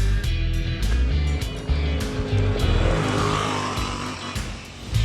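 A 2025 Yamaha Wolverine RMAX 1000 side-by-side engine revs and drones as the vehicle drives, loud and close with rising and falling throttle and faint tire noise.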